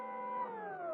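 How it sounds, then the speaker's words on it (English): A reversed sampled chord swells in with a sustained harmonic tone as its pitch is automated slowly downward, heard alone and fairly soft for about a second. "for a variation, I reversed one of the chords and did a little pitch automation down on it"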